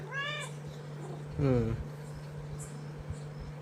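A pregnant cat close to giving birth meows twice up close, a short call at the start and a louder, longer one mid-clip, over a steady low hum.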